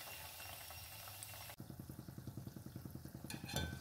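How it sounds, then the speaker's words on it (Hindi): A savoury fasting-day snack fries in oil on a tawa until golden brown, giving a close, steady sizzle with soft rhythmic bubbling and a brief scrape near the end. "अब हम पलट लेंगे और गोल्डन ब्राउन होते तक फ्राई करेंगे।"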